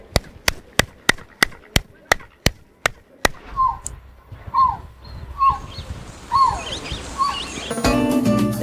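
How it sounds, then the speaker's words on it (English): Ten sharp hand claps in an even rhythm ring out in front of a Mexican pyramid, each followed by a chirped, bird-like echo resembling a quetzal call. Echoes repeat as descending chirps, and a burst of crowd noise and applause enters near the end. "If you stand in front of the pyramid and clap your hands, you can hear the Quetzal bird screaming."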